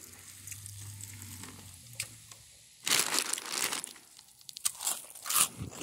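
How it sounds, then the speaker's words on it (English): Dry cereal pours onto another heap of cereal, a scattered crunching and crinkling rattle that starts after a quiet stretch and runs in loud, uneven bursts to the end. "Now I'm putting hype cereal on Bearbrick's bareback cereal."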